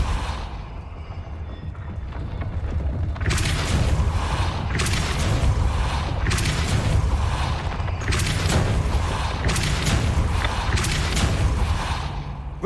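Depulso force spell cast repeatedly in the Hogwarts Legacy video game, a series of whooshing bursts in an irregular rhythm over a low rumbling background, loud and close.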